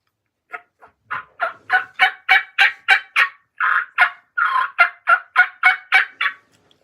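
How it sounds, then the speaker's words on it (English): A handheld turkey call is played up close: a quick run of about twenty sharp, high-pitched yelps in a rapid, slightly uneven rhythm, with no talking. "Made this turkey call just now"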